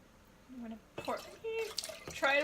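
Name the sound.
pouring sweet tea mixture for kombucha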